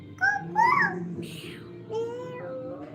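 A child imitates a cat with a few high, wavering meow-like cries close to the mic, and a short adult voice comes in between them.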